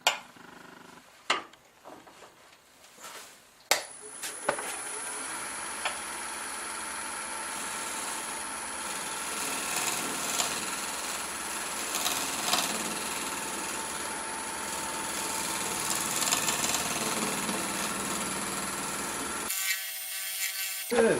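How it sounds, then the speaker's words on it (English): A wood lathe turns a gnarly burl, and a negative rake scraper works the outside with a steady, loud scraping whine over the motor hum, after a few sharp knocks as it starts up, then stops abruptly near the end. "Maybe we'll use our negative rake scraper here,"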